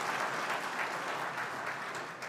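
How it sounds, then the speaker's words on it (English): A conference audience at a banking and finance event gives a sustained round of applause, a broad wash of many clapping hands that fills the room and tapers slightly toward the end. "I think we should give the central bank a big round of applause"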